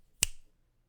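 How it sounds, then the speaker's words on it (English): A single loud, sharp finger snap rings out close by, alone against near-silence, with a short tail fading quickly after it. "I click my fingers really loudly."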